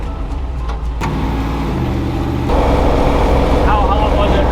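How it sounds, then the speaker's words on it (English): A Toyota FJ45 rock crawler pulls away with its engine running, a loud, steady drone that grows heavier as it picks up speed, with no voices. "we're gonna go take this for a little drive and see if the engine gets warm"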